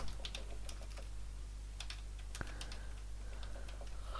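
Faint, scattered keystrokes on a computer keyboard click over a steady low electrical hum in a quiet room, with irregular spacing and one sharper tap midway.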